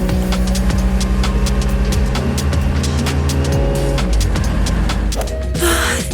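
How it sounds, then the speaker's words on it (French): A limousine arrives with a loud, steady engine roar and repeated squealing tires, and a harsh skid-like burst comes near the end. "Où est garée notre limousine? Je crois qu'elle arrive."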